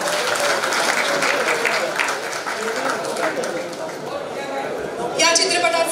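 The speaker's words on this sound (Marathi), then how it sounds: "इथे टाळ्या वाजवायच्या।" An audience at a Marathi film trailer launch event gives steady, full applause throughout, a dense wash of many hands clapping, with a brief louder swell near the end and some voices mixed in.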